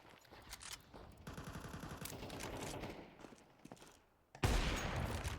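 Bursts of gunfire in Counter-Strike 2 deathmatch, a rapid rattling volley followed by a quieter lull and then a sudden loud burst near the end, with no talking.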